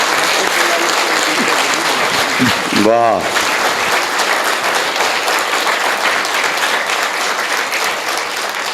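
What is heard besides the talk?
audience applause at Hindi poetry event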